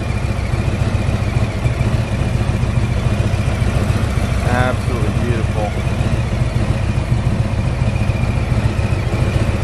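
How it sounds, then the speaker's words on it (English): A 2017 Harley-Davidson Trike Freewheeler FLRT with a 107 Milwaukee-Eight engine idles nearby with a steady, even rumble while someone talks over it. "Got a 107 Milwaukee-Eight engine here."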